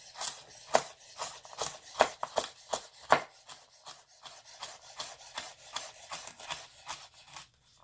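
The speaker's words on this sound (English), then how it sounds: "From here, just going to cut it into small pieces." A knife chops carrot strips into small pieces on a cutting board, giving a steady series of crisp, evenly spaced taps close by, about one or two per second, with no talking.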